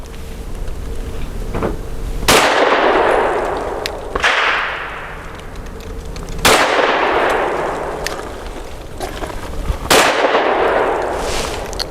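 Mossberg MC2sc pistol shots ringing off a steel target: four sharp, loud reports, each followed by a long metallic decay, spaced a couple of seconds apart, with no talking.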